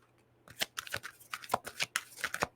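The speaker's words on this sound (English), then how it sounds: "I'm getting a sloppy shuffle" A deck of tarot cards is shuffled loosely by hand, about a dozen quick papery riffles and slaps in close succession, near and fairly quiet, with no talking.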